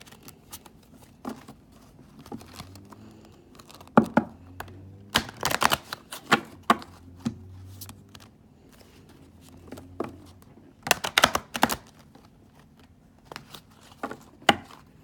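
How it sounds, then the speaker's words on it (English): Oversized oracle cards, about twice the size of tarot cards, being shuffled up close in a quiet room, with bursts of riffling and slapping clatter separated by brief pauses. "They're like at least twice as big as my tarot cards, so they're a little bit difficult to shuffle."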